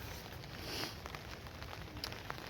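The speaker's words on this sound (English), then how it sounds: "As you can probably hear, the rain started again." Rain falls faintly and steadily in woodland at a wild camp, a soft continuous patter with a few scattered drop taps, distant and with no talk.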